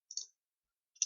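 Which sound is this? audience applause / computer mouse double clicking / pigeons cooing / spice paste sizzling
computer mouse double clicking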